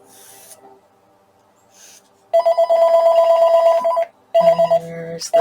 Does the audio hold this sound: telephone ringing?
yes